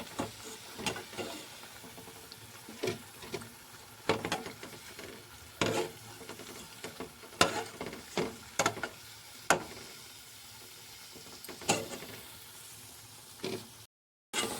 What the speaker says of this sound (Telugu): ఇలా లో ఫ్లేమ్లో పెట్టుకుని ఇలా అయితే వేయించుకోవాలి